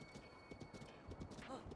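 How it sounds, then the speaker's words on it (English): A horse gallops in The Legend of Zelda: Breath of the Wild, its quick rhythmic clip-clop hoofbeats soft and fairly faint, with a voice briefly heard over them. "I got a giant horse."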